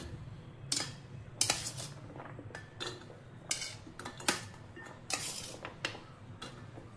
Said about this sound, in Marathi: ह्याच्यामध्ये आपल्याला कापलेले गाजर आणखी बीट टाकायचे